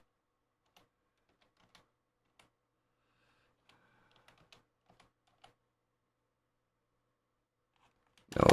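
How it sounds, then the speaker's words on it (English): Sparse, faint keystrokes on a computer keyboard, scattered single taps and a short quicker burst with long quiet gaps, followed by a sudden loud noise at the very end. "I'm typing and nothing's happening."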